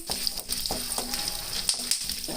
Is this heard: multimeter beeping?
no